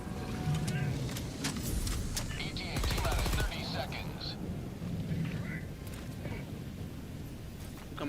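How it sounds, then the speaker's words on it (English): Orbital strike in a bug-fighting video game: heavy, rumbling explosions and crackling blasts fill the whole stretch, loud and continuous, with a sharp burst of rapid impacts near the middle. "Requesting orbital strike."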